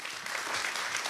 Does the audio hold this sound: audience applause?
yes